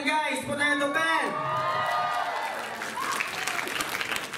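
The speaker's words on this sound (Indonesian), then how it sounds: "Tepuk tangan untuk band." Audience at a cafe concert applauding the band, a crowd clapping with some whoops while a singer talks over it.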